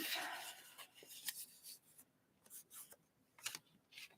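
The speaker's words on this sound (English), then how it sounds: "So we're going to fold these in half" Paper cards are folded in half by hand, giving short dry rustles and creasing scrapes in several quiet, separate bursts at close range.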